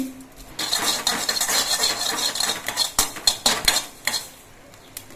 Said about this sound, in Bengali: আমি অল্প একটু কালো জিরে ভেজে নিচ্ছি